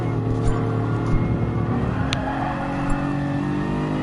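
A race car's engine in Gran Turismo Sport drones with a strong, tonal hum that shifts gradually in pitch, with a few brief sharper accents, heard alone and fairly loud.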